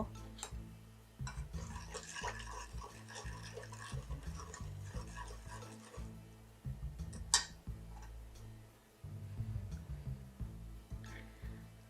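A spoon stirs a tablespoon of cornflour into a sweet mixture, clinking and ticking against the bowl in quick, uneven bursts over a low, steady background hum.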